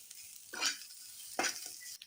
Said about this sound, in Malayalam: ഇതൊന്ന് നമുക്ക് നന്നായിട്ട് വറുത്തെടുക്കാം.